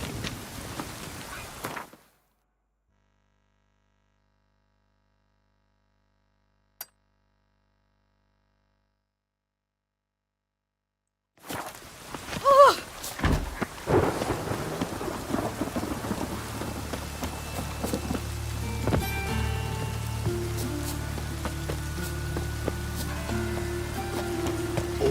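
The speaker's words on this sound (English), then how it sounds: "Must like the rain, that one." Rain and rolling thunder from a storm in The Witcher 3: a steady downpour and rumbles, cut by a long stretch of silence before the rain returns, dense and continuous with low thunder beneath.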